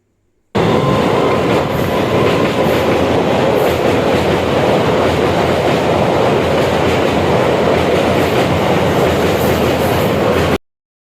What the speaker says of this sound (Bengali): বাঁকুড়া যাওয়ার যে ট্রেনটা ছিল আসছিল ওটা, তো দেখুন ট্রেনটা